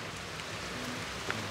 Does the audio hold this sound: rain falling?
yes